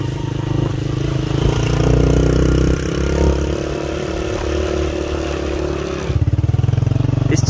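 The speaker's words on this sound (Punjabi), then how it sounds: "ਇਸ ਚੱਕਰਾਂ ਮੋਟਰਸਾਈਕਲ ਬਹੁਤ ਬੁਰਾ ਸਲਿਪ ਹੋਣਾ ਆ ਚਿਕਨੀ ਮਿੱਟੀ ਹੈ" A motorcycle rides over slippery, rain-soaked clay mud, its mid-range engine idling and revving unevenly close by, with a rougher, clattering burst near the end.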